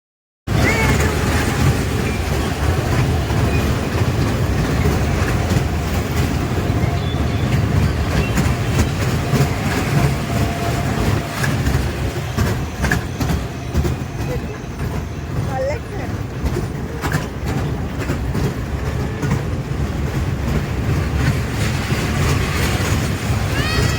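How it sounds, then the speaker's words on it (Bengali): A dragon train ride rolls along at a fair during Ganesh puja, with a constant rumbling clatter of the cars, crowd noise and nearby voices talking throughout. "আমি আর রিখিয়া ঠিক করি যে আমরা এই ড্রাগন ট্রেনটাতে চাপবো"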